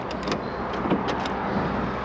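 Car air conditioning blowing steadily inside a moving car, a soft constant whoosh over low road rumble, with a few faint clicks and no talk.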